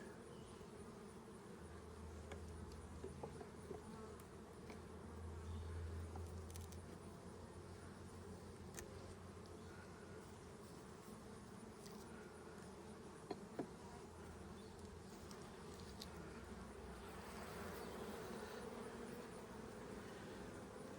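Honeybees buzz around an open beehive during an inspection, a faint, continuous drone with individual bees passing nearby, alongside soft rustling and occasional small clicks.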